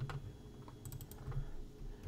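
A short run of faint, close keyboard clicks as a place name is typed into a map route tool in After Effects, soft keystrokes over a low steady room hum with no voices.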